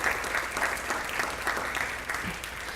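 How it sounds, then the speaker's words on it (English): Audience at the Indianapolis Neighborhood Resource Center annual meeting applauding retiring board members, steady dense clapping from a moderate-sized room, even and sustained throughout. "So I just want to give them a round of applause for their service."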